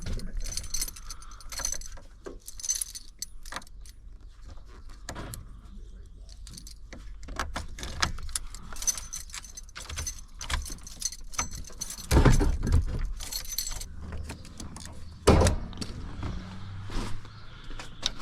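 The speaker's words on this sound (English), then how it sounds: "I gotta go put my keys in." Car keys jangle during a mobile mechanic job on a Ford F-150 that won't shift out of park, a series of quiet, scattered metallic clinks and rattles with a few louder bursts and no talking.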